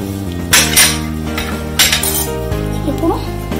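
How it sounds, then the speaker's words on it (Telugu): A metal spoon stirring milk into custard powder in a bowl, heard as loud clinks and scrapes against the bowl's rim at irregular intervals, with a ringing tone lingering between strikes. "ఇప్పుడు మనం కస్టర్డ్ పౌడర్ లో పాలు వేసి కలుపుకుందాం।"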